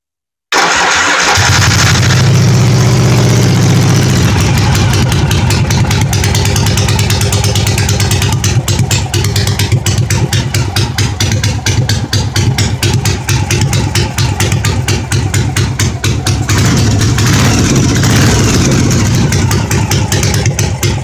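A 1982 Yamaha Virago 750 chopper motorcycle engine cranks briefly and then catches, settling into a loud, steady running rumble with rapid, even firing pulses that carry on for some twenty seconds, with no talking.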